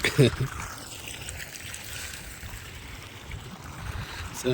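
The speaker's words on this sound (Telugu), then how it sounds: "మొత్తము 1 2 3 4 5 6 పైపుల నుంచి నీళ్లు పోతున్నాయి ఒక మోటార్తోనే" Continuous rushing of water pouring out of six pipes fed by a single motor pump, a steady broadband gush with a faint background hum, watering a fodder crop for camels.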